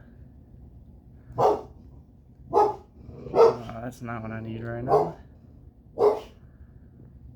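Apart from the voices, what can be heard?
dog barking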